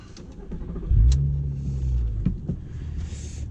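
A VW Golf Mk4 R32 engine cranks and fires up close by, catching with a loud surge and rev before settling into a deep, steady idle rumble, with a few small clicks and shifts around it.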